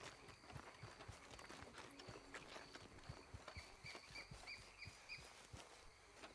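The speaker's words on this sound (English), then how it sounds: "My horse, damn it. You weren't supposed to come out." Horse hooves clatter in a quick, uneven galloping rhythm in the Red Dead Redemption 2 game, with birds and outdoor ambience around, moderately loud throughout.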